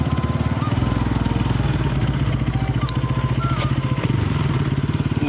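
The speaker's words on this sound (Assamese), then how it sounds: "চিধা পাহাৰতে উঠাই দিওঁ নেকি বাইকটো" A motorcycle climbs uphill on a rough road near a tea estate, its engine loud and close with a steady rhythmic thrum that pulls continuously throughout.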